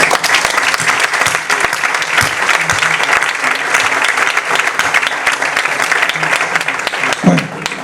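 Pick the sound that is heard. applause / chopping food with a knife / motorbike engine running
applause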